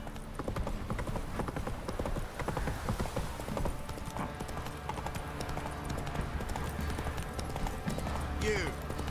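Hooves of Roach, the horse in The Witcher 3, clatter in a fast steady gallop up close, a dense rhythmic clip-clop with game voices and ambience layered over it, ending in a short neigh.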